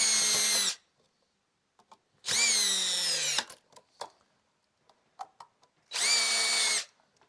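A power drill loosening screws on an electrical outlet, three loud whining bursts of about a second each, separated by quiet gaps with small clicks and handling knocks.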